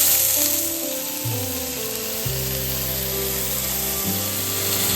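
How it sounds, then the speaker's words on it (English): A smashed burger patty with onions sizzles on a hot griddle, a steady bright hiss running throughout beneath prominent music. "Add some onions. And press or smash."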